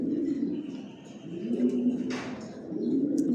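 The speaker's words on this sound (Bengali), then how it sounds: "সব একই লাইনের কবুতর পালি, জনসন লাইনের" Racing pigeons of the Johnson line coo low and steady inside a rooftop loft, with a short burst of rustling or wing noise partway through.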